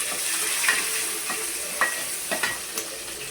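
Curry leaves crackle and fry in hot oil, a dense close sizzle punctuated by several quick pops and scrapes of a stirring spoon.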